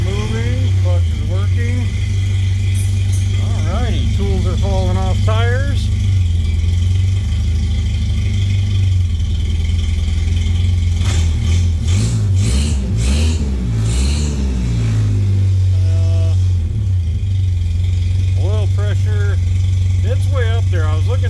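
Toyota engine warming up, running at a high, steady idle with a few revs rising and falling, loud and close, with talk over it at times.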